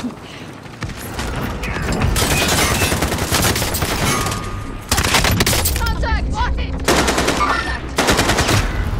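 Loud, sustained automatic gunfire rattles in Call of Duty: Modern Warfare, in near-continuous bursts with brief lulls and a few heavier booms, while voices talk over the close, dense shooting.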